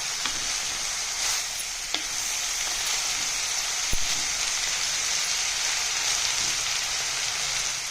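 Red ponnanganni greens sautéing in a pan give off a steady, soft, close sizzle and crackle that runs unbroken throughout, with no voices.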